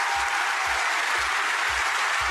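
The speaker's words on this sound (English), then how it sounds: "So I'd like a round of applause for them," An award ceremony audience applauds two journalists with dense, continuous clapping, while a low rhythmic thumping pulses underneath at a regular beat.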